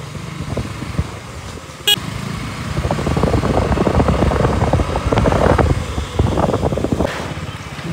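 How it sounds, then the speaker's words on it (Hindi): A motorcycle being ridden on an open road rumbles steadily with a close engine drone and wind buffeting, growing louder in the middle with a brief click near the start. "तो अभी हम जा रहे हैं बाइक लेके"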